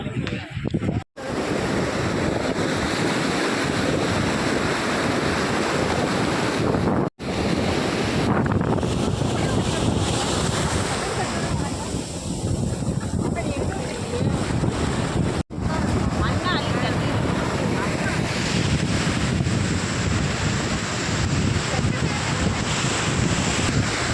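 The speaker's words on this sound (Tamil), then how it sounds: "கடலில் அலையெல்லாம் பார்த்திங்கன்னா பயங்கரமாக இருந்துச்சுங்க. அலை அவ்வளோ ஒரு சத்தம், பயங்கரமான சத்தமாக இருந்துச்சு." Loud ocean surf pounds Tiruchendur beach, a constant roaring wash of breaking waves mixed with heavy wind buffeting the microphone, filling the whole span with few brief dropouts.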